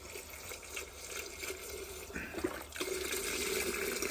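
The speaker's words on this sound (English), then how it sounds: "So next stop for us is pouring in our soup." Chicken noodle soup broth poured into a pot of simmering onion and greens, a soft continuous splash and trickle, close but fairly quiet, swelling louder toward the end.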